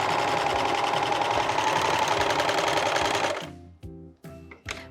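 A sewing machine stitches the seams of men's thong underwear in a fast, steady mechanical whir lasting a few seconds, then stops, leaving a few soft clicks and handling sounds.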